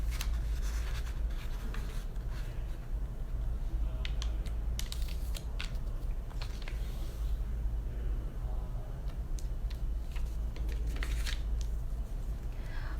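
Origami paper folded and creased by hand, quiet crinkles and sharp scraping presses in irregular bursts over a low steady hum, with no talking.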